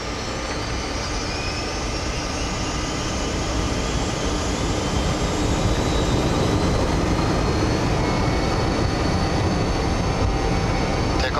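Jet engines of a BAe 146-300 airliner spool up to takeoff thrust in a steady, loud, broadband roar heard from the cockpit, with a faint high whine that rises slightly as the power builds.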